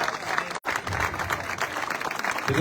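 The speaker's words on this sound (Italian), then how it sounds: "facciamo un applauso a Salvatore anche" A studio audience on a Sicilian cooking show claps steadily in a dense, continuous wash that keeps up across the whole stretch, with one brief cut near the start.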